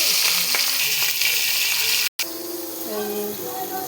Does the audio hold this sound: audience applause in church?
no